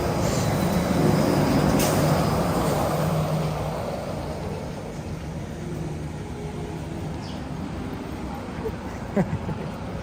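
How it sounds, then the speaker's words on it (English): A Disneyland monorail rolling past on a busy Saturday, a broad rumbling train-like drone that is loudest early and then eases off, under crowd noise and nearby voices. "Oh, monorail."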